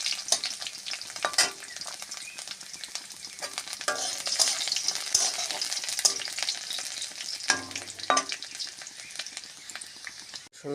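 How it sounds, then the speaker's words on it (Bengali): Garlic fries in a pan as it is stirred, giving a continuous close sizzle broken by scraping strokes and occasional louder crackles, with no talking. "রসুনটা একটু ভাজা ভাজা হলে তারপর আমি পেঁয়াজ দেবো।"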